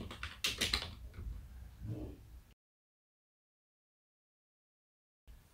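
Keystrokes on a computer keyboard while entering a formula in a Google Sheets spreadsheet, a quick cluster of close taps lasting about two seconds, then a sudden cut to silence.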